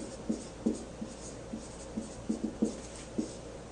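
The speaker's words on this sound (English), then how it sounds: "So let's go ahead and write that down." Pen or marker writing notes, a series of short soft scratching strokes in an irregular rhythm, close and quiet, with no speech.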